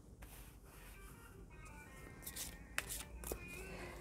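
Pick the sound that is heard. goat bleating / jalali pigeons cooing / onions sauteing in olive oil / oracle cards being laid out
oracle cards being laid out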